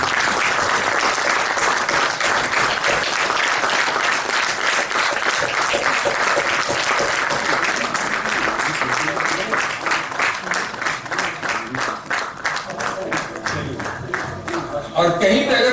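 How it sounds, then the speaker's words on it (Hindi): An audience at a Hindi stage play applauds the performers with loud, dense clapping that thins and fades toward the end, with some voices mixed in. "सभी कलाकारों का यथा उचित समय समय पर तालियां बजाकर स्वागत करें"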